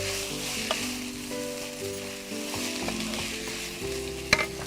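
Red bell pepper stir-fries in a hot pan for chicken fried rice, a loud continuous sizzle close up with scraping stirs and a sharp clink near the end.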